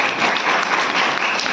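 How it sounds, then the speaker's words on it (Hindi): A satsang gathering claps briefly, a dense wash of applause from many hands, loud and continuous for a moment before fading toward talk. "ताली बजाओ इसके लिए"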